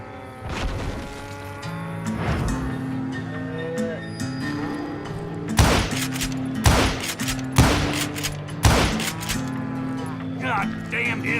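Gunfire in the Western video game Call of Juarez Gunslinger, loud sharp shots in several bursts over a background of music, with cattle lowing through much of the scene.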